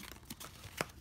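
A Topps Heritage 2017 baseball card hanger box is torn open: faint crinkling, then one short, sharp tearing rip of cardboard and wrapper, close by, with no talking.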